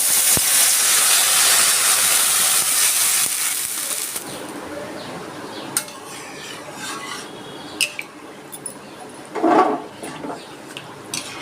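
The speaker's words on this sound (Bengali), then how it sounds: "এবার আমি জল দিয়ে দিচ্ছি।" Water poured into a pan of frying mung dal sends up a loud, close hiss that fades after a few seconds into quieter bubbling, with scattered clinks and scrapes.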